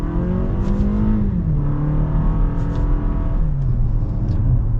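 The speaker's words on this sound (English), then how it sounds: "So we're gonna get our acceleration here with the Avalon." A 2021 Toyota Avalon Limited AWD accelerating from inside the cabin, its engine note rising steadily through about five seconds with a smooth gear change partway, loud and continuous without any talk.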